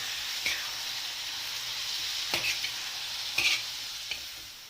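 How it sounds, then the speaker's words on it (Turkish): Peppers and tomatoes fry in a pan for saç kavurma with a steady, close sizzle, while a few soft scrapes and clicks of stirring break through at intervals. "En son olarak da domateslerimizi şöyle güzelce karıştıracağız."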